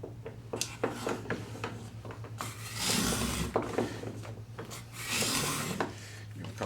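A miter trimmer shaves pre-finished wood molding in a few quick rasping slices, close and fairly quiet, with small scrapes and knocks between strokes over a low steady hum.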